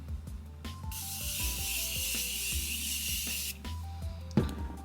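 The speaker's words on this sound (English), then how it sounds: "then like to spray more setting spray." A bottle of makeup setting spray gives one long, close hiss lasting a couple of seconds, with small mechanical clicks and rattles before and after it.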